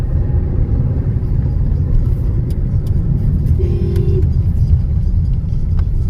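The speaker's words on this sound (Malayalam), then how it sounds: "ട്രാക്ടറാടാ ട്രാക്ടർ നോക്കി" A tractor engine rumbles loudly and steadily as it drives past on the road, a constant heavy low drone with a brief tonal whine partway through.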